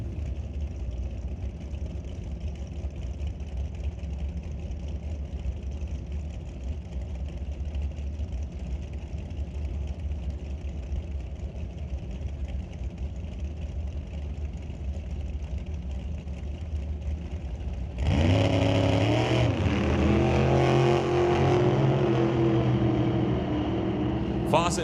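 Big block Chevy drag race car with a 615 cubic inch motor and a throttle stop launching down the racetrack, a steady engine rumble building into a loud, sudden roar near the end.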